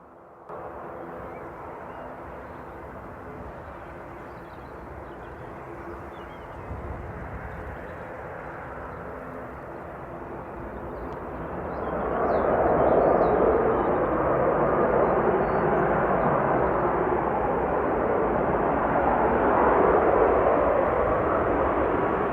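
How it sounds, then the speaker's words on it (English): Ryanair Boeing 737 MAX 8-200 jet landing at Manchester Airport, a steady engine roar that swells louder about halfway through as the aircraft crosses the threshold, then holds as a broad, close rumble. "Coming over the threshold now is Ryanair from Krakow. That's a 737 MAX 8-200"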